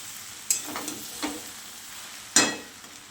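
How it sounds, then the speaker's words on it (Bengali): Potatoes and peas cooking in a pan, a soft frying hiss under two or three spatula strokes, with one sharp metallic scrape near the end. "ভালো করে মটরটাকে ভেজে নিচ্ছি, ভালো করে ভেজে নিচ্ছি।"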